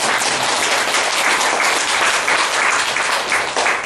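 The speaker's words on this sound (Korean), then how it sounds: "우리 다시 한번 박수로 예수님 감사합니다" A church congregation applauds during an Easter Sunday service, giving dense, even clapping that fills the room loudly and continuously from start to finish.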